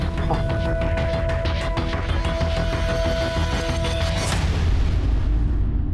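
A loud bomb explosion sound effect from a Hindi crime TV drama, a dense sustained blast with rumbling debris that roars steadily through the whole stretch, brightening near the end, with no speech.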